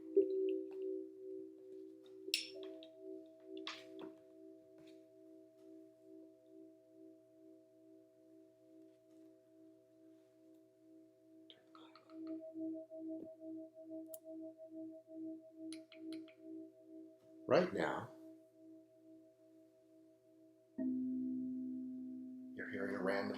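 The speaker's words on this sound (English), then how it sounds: "you're hearing a random sequence of tones that are harmonically complementary." Random sequence of harmonically complementary sustained electronic tones, steady and overlapping, shifting pitch now and then, with a brief voice and a short noisy burst partway through.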